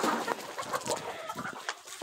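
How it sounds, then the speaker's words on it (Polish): Free-ranging hens around a farmyard give soft, scattered clucks at close range, with no talking. "Oj, te kury, kury."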